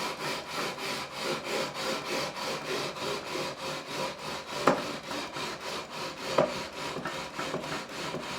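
A fret leveler rubs steadily back and forth across the frets of a made-in-Korea Squier Stratocaster, a close, even rasping stroke repeating about every third of a second, with two sharp taps partway through.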